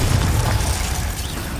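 A Confringo blast spell from Hogwarts Legacy erupts in a brief, loud explosive burst, a deep rumbling boom with crackling debris that fades out over under two seconds.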